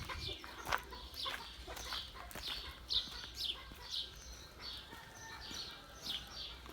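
An İspenç crossbreed hen clucks in a garden among other domestic animals, giving a run of soft, repeated clucks at moderate distance over steady low background noise.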